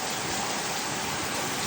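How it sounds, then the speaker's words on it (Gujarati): Heavy morning rain in Georgia in the United States, a dense, even hiss of downpour that stays steady and moderately loud throughout, with no voices over it. "જોરદાર વરસાદ આવે છે"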